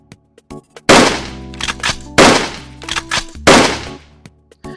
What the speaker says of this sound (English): the bullets flew into the target with satisfying accuracy